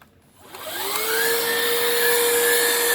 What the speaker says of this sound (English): Now I'm going to spin the vacuum around like this